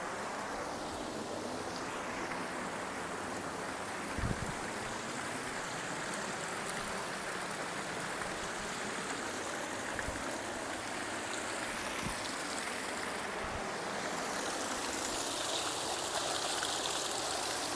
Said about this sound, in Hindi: साफ और स्वस्थ पानी आ रहा है लगभग